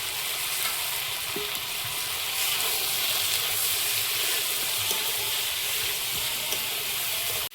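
Shrimp frying in a pan with turmeric powder and salt, a steady, loud sizzle with bubbling and faint stirring that runs unbroken from start to finish.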